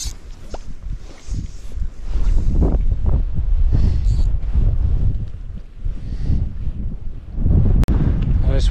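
Cold wind gusts steadily outdoors on a hike in Lapland, a broad rushing roar buffeting the microphone for the whole stretch, with one sharp click near the end.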